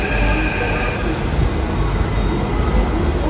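A train pulls into a railway station platform with a loud, steady rumble of wheels and rolling carriages and a faint high squeal above it.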